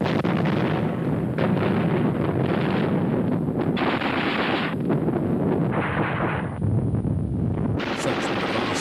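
Rapid, continuous bursts of German flak fire from grouped 20mm single-barrel, 37mm and 88mm anti-aircraft guns, loud and dense throughout with heavy booming reports and crackling, no clear pauses.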